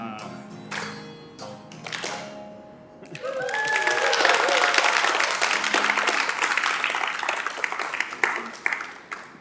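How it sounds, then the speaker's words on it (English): Applause from an audience at a climate celebration event builds up after a few brief musical notes and sustains as steady, dense clapping for several seconds before thinning slightly. "Thank you for clapping."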